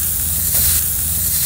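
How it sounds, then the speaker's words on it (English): Steady, loud hissing sizzle of seasoned steak searing in a hot cast iron pan, continuous with a slight surge midway. "You hear the sizzling?"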